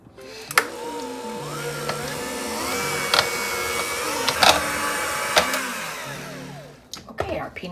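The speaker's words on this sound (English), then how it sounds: "I'm going to take my hand mixer and combine those 2 ingredients" An electric hand mixer whirs steadily while blending peanut butter and butter for keto peanut butter balls, with a pitch that rises and shifts as the beaters work and a few sharp knocks against the bowl along the way.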